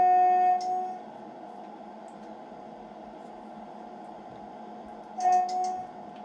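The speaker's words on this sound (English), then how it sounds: "Let's do the toot the horn on the station" Class 377 electric train in Train Sim World 2 sounding its horn at a station, two short tonal blasts at the start and near the end over a quiet cab hum.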